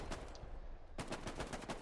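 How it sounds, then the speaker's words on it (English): An exchange of gunfire in the video game Hell Let Loose during a 49 v 49 multi-clan match on Hill 400: a few scattered shots, a brief lull, then a rapid string of sharp bursts close by, fairly quiet overall. "Bullets exchanged."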